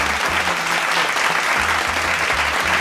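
Steady, dense applause fills the whole stretch, a close, even wash of clapping hands with no talking over it.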